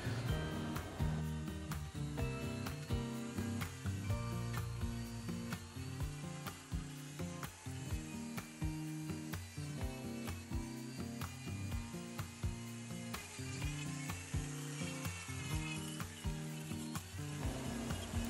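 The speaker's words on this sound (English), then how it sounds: "This burr bit also sands down negative space around the raccoons." An electric rotary burr bit grinds and sands a wooden stump while carving a peekaboo raccoon, giving a steady close buzzing whir with rough, chattering bursts as the bit bites the wood, running continuously without speech.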